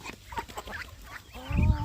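A three-month-old Pradu Hang Dam KKU55 chicken clucks and calls close by on a farm, with short scattered vocal bursts and a louder rising call at the end.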